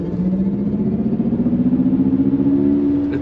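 Mercedes-Benz EQS580 electric car accelerating at full throttle, a steady rising electric whine with a low hum that climbs in pitch over a few seconds, loud and continuous with no talk.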